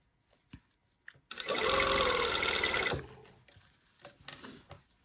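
A sewing machine stitches an invisible zipper into fabric, running in one loud, steady burst of mechanical whirring for about a second and a half. Softer handling clicks and rustles come before and after it, and there is no talk.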